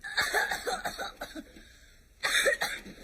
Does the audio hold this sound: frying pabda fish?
no